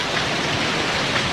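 Heavy rain pours down in a Doraemon cartoon, a loud, dense and constant roar of falling water that fills the short stretch without any speech.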